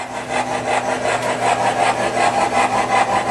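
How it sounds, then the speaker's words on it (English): A model railroad SD40-2 diesel locomotive powering up, giving a steady close hum with low tonal drone and a rough, even rumble that continues evenly throughout, no talking. "I'm going to fire up the SD40-2."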